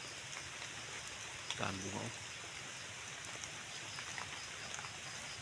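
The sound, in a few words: rain falling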